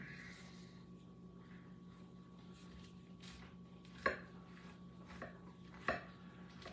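A big knife cuts through a chicken sandwich with pickles on a board, producing two sharp, distinct chops over a quiet kitchen hum, along with a softer tap between them.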